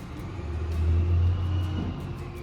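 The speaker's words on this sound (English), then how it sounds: "Sorry, I'll wait for the trash truck" A trash truck passing close by outside, a deep engine rumble that swells to its loudest near the middle and then slowly fades, with faint clicks and no talking.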